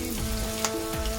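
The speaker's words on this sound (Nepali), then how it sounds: "डिप फ्राई गर्दैछु" Pork pieces deep frying in hot oil for a Nepali pork chilli, a steady broadband sizzle with a faint low hum and a brief clink partway through, close and continuous with no voices.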